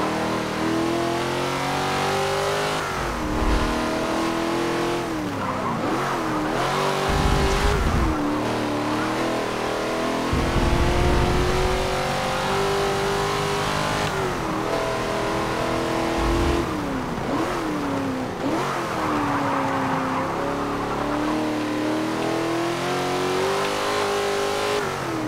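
Race car engines rev and roar continuously in Forza Motorsport 7, rising and dropping in pitch through gear changes and corners, loud and close, with occasional low thumps.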